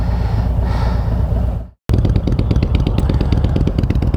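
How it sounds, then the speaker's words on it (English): An Indian Chieftain motorcycle engine running close by, a loud, steady low rumble that cuts out briefly, then returns with a throbbing, pulsing idle. "She's got her Indian Chieftain, which, you know, I guess it sounds okay."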